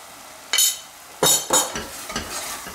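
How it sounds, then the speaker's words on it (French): A spoon stirs a cornstarch roux in a pan, giving a few scraping strokes with short bursts of sizzle and a light clink of metal. The sounds are close and loud, and nobody speaks. "Je mélange, ça fait comme un roux."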